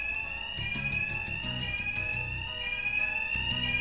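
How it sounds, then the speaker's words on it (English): A bank alarm rings in Batman: Arkham Knight, a continuous shrill electronic tone holding steady throughout, with low thuds and rumbles of game action underneath. "these thugs can't hear a thing over the alarms"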